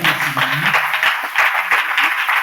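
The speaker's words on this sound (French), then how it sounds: "Acclamons encore pour le Seigneur" A church congregation applauds during a Sunday sermon. Many hands clap at once in a fairly loud, sustained burst, with a voice speaking over it at the start.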